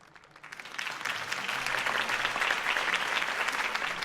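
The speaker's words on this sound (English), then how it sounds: "If only Mr. Wayne, my campaign's largest backer, could have heard that applause" A crowd breaks into applause after Harvey Dent's campaign speech in a Batman video game, starting soft and swelling to a steady, dense wash of clapping that holds for several seconds.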